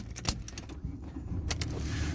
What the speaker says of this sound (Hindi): गाड़ी अब स्टार्ट हो गई।